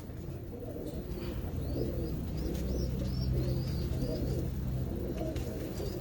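A female pigeon, one of a breeder's champion birds, coos softly amid steady background noise, its low calls running along under faint chirps from other birds.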